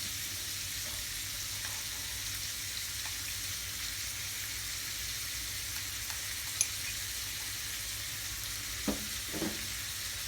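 Pork stir-fries with roasted chili paste in a pan, a steady, even sizzle running throughout with occasional soft scrapes and taps of the utensil near the end.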